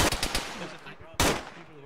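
Loud bursts of automatic gunfire from a military shooter game, a rapid volley followed by a second sharp burst, close and harsh with no talk.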